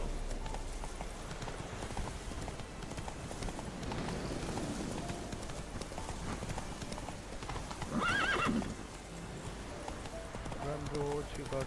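Roach, a horse in Witcher 3, gallops with steady clip-clop hoofbeats that run throughout under game ambience, and a loud whinny or neigh stands out partway through; a voice speaks at points.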